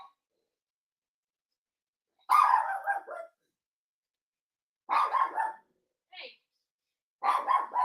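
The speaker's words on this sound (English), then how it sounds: "I gotta see what Snoopy's barking at" A pet dog named Snoopy barks indoors in a few separate bursts of several barks each, with short silent gaps between and no one speaking over them.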